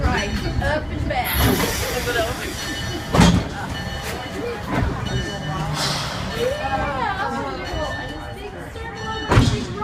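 A train rumbles along the rails with clattering and occasional heavy thumps, while people talk over the steady noise.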